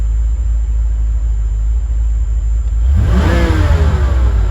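Stock 1993 Ford Mustang engine with about 76,000 miles idling steadily, then revving up sharply partway through, rising and falling in pitch, close and loud with no talk.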